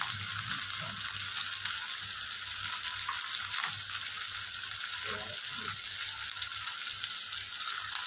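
Masala for hilsa fish curry sizzles in a pan, a constant bright frying hiss with a few faint stirring scrapes and no talk.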